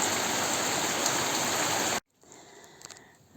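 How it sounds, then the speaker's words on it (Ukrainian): A heavy rain shower pours down in a dense, loud, steady hiss for about two seconds, then cuts off abruptly to near quiet. "І дощ то сильніше, то трішечки притихає, але злива гарна."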